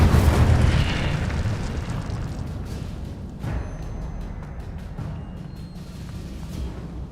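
A fiery Incendio spell bursts in a video game with a loud, booming whoosh, its roar sustained and rumbling before a second softer surge midway, then tapering off.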